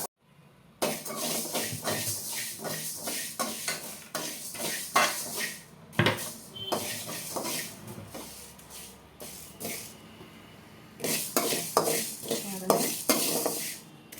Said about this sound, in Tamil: ஒரு ஸ்பூன் அளவுக்கு வெந்தயம் போட்டு நல்லா பொன்னிறமாக வதக்கிக்கலாம்